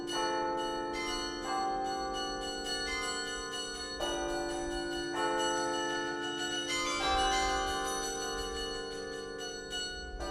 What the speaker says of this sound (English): They consist of at least 2 octaves, or about 23 bells minimum, of cast bronze bells that are all tuned in accord with one another